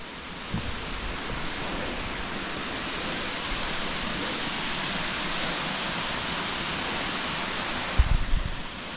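The 63-metre Maral waterfall at Borçka in Artvin gives a steady, dense roar of falling water that fills the whole scene, with a brief low thump near the end.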